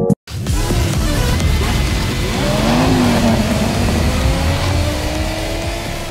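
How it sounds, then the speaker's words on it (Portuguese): Hyundai N 2025 VGT Gr.1 turbo race car in the Gran Turismo video game, its engine roaring loud and continuous as it accelerates with rising pitch, after a brief silence at the start. "E essa turbinona aí que gira 200 mil RPM no escapamento."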